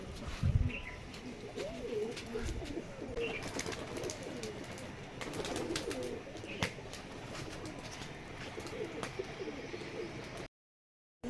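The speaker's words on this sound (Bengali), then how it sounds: "এটাও একটা বাজির কবুতর" Rajshahi Giribaz tumbler pigeons coo softly in a loft, with repeated low, rolling calls among faint background noise and a brief flutter of wings near the start.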